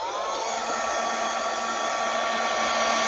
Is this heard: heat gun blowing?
yes